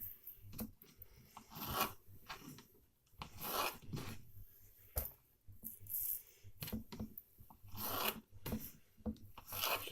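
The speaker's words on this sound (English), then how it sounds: "All you have to do is just simply cut them into quarters and throw them into a bucket." A knife slices hot dogs into quarters in repeated rough, scraping strokes with short pauses between cuts, close and fairly quiet, with no talking.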